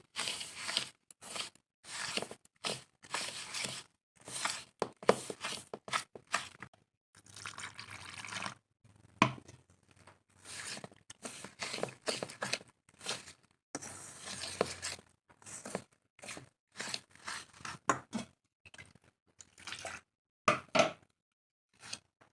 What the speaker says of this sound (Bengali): আমি অল্প অল্প করে জল দিয়ে গুলে নিচ্ছি